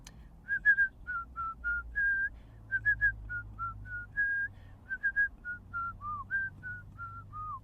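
A person whistles a melodic tune alone, clear steady notes in a bouncy rhythm with short pauses between phrases.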